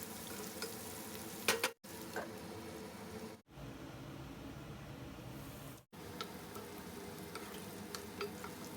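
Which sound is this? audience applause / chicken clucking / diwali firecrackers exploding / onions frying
onions frying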